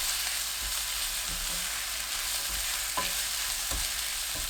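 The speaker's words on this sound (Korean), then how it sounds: "양념한 호박꼬지 넣고 중불로 2분 볶습니다." Seasoned dried zucchini strips are stir-fried in a pan with oil, minced garlic and green onion over medium heat, giving a steady close sizzle broken by a few soft spatula scrapes and stirs.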